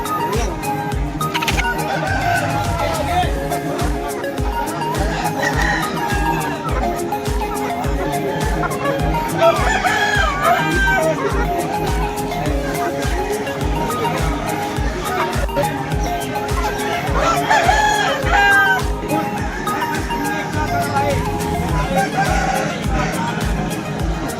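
Aseel roosters crow and cluck loudly and close by, in repeated calls over a busy bird sale, with people talking throughout.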